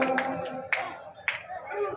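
Scattered hand claps welcoming a minister at a devotional bhajan evening; a few sharp, uneven claps, fairly near, with a voice carrying underneath.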